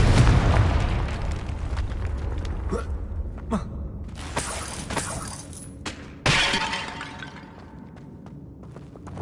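The Confringo explosion spell goes off in a Harry Potter video game on PS4, with a loud shattering blast, crackling debris and rumbling mechanisms, then a second sharp impact mid-clip, close and without talk.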